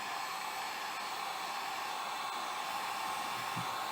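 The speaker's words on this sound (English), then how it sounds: "And we're going to use our heat gun." Heat gun blowing hot air to shrink heat-shrink tubing over soldered wiring on a Ford 5.0 EFI harness: a steady, close, unbroken whooshing roar with no talk.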